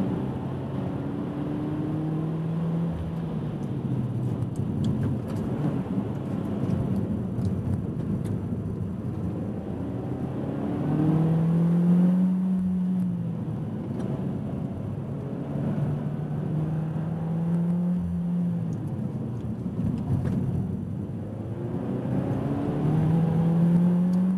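A Peugeot 208 GTi 30th lapping a race circuit, its engine droning steadily from inside the cabin with rising and falling pitch as it accelerates and shifts through corners, loud and continuous with no talk.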